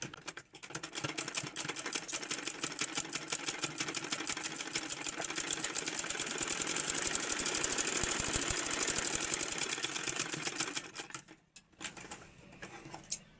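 Sewing machine stitching a blouse, a fast steady rattling run of stitches that builds slightly in loudness, then stops near the end, followed by a few quieter clicks.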